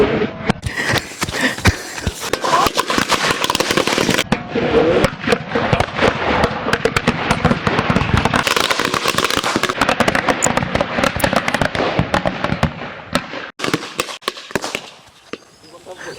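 Bijli firecrackers set off in a village outdoor cooking setting, a dense run of sharp crackling pops and bangs going on nearly nonstop for most of the stretch before tapering off, with voices mixed in.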